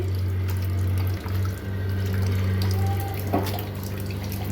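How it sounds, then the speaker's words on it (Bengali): Tap water runs steadily over salted bitter gourd being washed in a kitchen, a close, even splashing stream with small dips where hands shift the pieces under the flow. "আমি এখন ধুয়ে নিচ্ছি"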